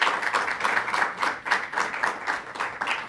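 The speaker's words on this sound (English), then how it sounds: "Let's give a round of applause for Despina Garcia." A round of applause breaks out for a nurse at a state governor's press event, steady crowd clapping with rhythmic surges, moderately loud and without talk over it.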